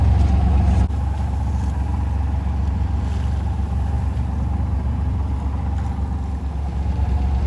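A sailboat's motor running while motoring through a Downeast Maine anchorage, a steady, loud low throbbing drone that holds evenly throughout with slight shifts in tone, close by and without any talk.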